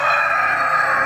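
Heritage chickens in a coop, a rooster crowing loudly and steadily for the whole short stretch, close by with no talk over it.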